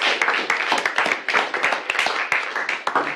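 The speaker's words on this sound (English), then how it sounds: "Round of applause for us." A small group claps in a quick, uneven patter of hand claps lasting a few seconds, close and fairly steady.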